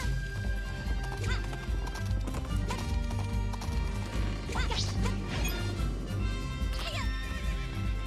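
Horse galloping in Princess Peach Showtime, with rapid rhythmic hoofbeats carrying through, loud neighs, a few hard impacts and game music, and a voice talking over it.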